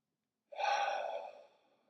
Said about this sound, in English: take in one nice deep grounding breath together